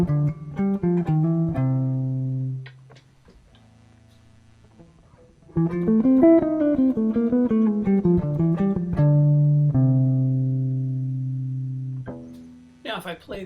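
An instrument plays a bebop scale arpeggio pattern over a dominant chord, clear sustained pitched notes rising and falling in phrases, with a quiet gap midway and a sharp noise at the end.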